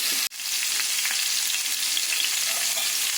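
Chicken leg pieces fry in a pan, giving an even, dense sizzle that holds for the whole stretch after a sharp knock near the start.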